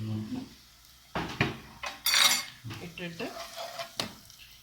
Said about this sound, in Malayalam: നല്ലപോലെ കൊണ്ട് വഴറ്റുക